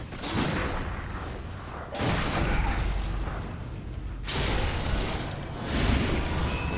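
Gunfire in the video game Bloodborne, heavy booming bursts that swell and fade in roughly two-second waves, loud and continuous with no talk over it.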